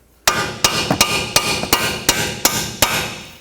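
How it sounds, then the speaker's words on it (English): Sharp metallic hammer blows ring out about eight times in a steady rhythm, knocking out a camber adjustment bolt on a 2005-2010 Pontiac G6, each strike loud and close with a brief ringing decay. "we'll have to press it out with a hammer"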